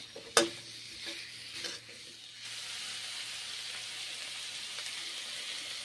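Chicken fries in butter, a few knocks and clatters at first and then a soft, even sizzle that holds steady to the end.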